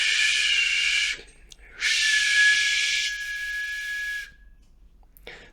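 Two short breathy whistles, each a hissy rush of air with a thin high tone, the second longer and trailing off, followed by a faint puff.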